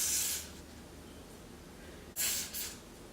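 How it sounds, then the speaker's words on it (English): Short hissing bursts of hairspray: one at the start, then two quick sprays close to the microphone after a pause. "any type of hairspray and just spray a little bit on the"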